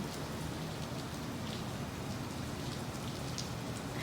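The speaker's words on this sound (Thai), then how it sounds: "ฝนตกได้ยินเสียงฟ้าร้องด้วยเนาะ" Steady rain falls in a continuous, even hiss of drops pattering on surfaces in Las Vegas, moderately close, with no voices.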